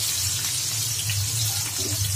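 Chopped onions fry in hot oil in a pan, giving a steady, close, hissing sizzle that carries on without pause and with no voices.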